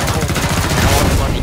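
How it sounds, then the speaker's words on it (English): Rapid bursts of gunfire in the video game Killing Floor 2, loud and dense, firing continuously in a short barrage. "Stand back. I'm going to shoot it."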